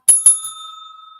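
A doorbell gives two quick bright metallic dings followed by a long ringing decay, loud and close with nothing else around it.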